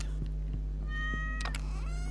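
A pet cat in the farming game Stardew Valley gives a couple of short, clear meows, close and alone against a quiet background.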